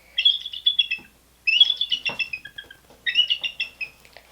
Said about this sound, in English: Here's what a bald eagle sounds like.